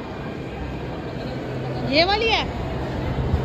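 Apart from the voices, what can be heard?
metro train arriving at Chandni Chowk station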